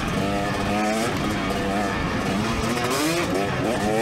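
A 2024 KTM 300sx two-stroke dirt bike ridden on a motocross track, its engine revving up and down continuously with rising and falling pitch, loud and close, with wind noise throughout.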